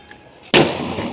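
A Deepavali firecracker goes off with a single sharp, loud bang after a quiet moment, its crack ringing briefly before fading.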